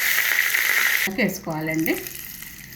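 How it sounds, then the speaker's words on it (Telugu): Curry leaves hit hot oil while tempering with mustard seeds, dried chillies and asafoetida for a kalimakaya (vakaya) pachadi, giving a loud, close sizzle for about a second before a voice speaks over the fading frying. "ఈ కరివేపాకు వేసుకోవాలండి."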